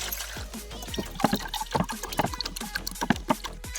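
Water is poured and sloshed in a series of uneven splashes and gurgles while measuring it for chicken dum biryani rice cooked outdoors in a cashew grove, close and moderately loud.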